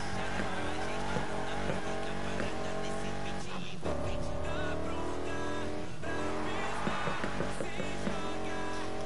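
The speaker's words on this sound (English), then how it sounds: "Peep the drifts." Car drifting in the racing game Need For Speed Heat, with a steady engine drone and stretches of tire squeal that break off around the fourth and sixth seconds, all under a constant layer of music.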